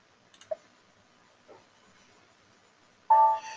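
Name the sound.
mouse or keyboard clicks pressing enter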